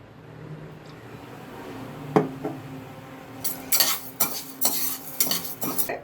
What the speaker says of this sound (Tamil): தோரம் பருப்பு அதை வறுக்கலாம்.